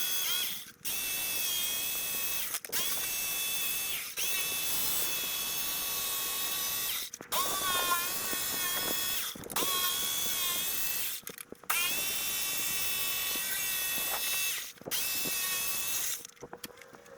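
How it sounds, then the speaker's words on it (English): A power screwdriver drives screws to fix a circle-cutting jig onto a router base, whirring in several close bursts of a few seconds each with short silent gaps between them. "Then you just screw the jig to the base of the router"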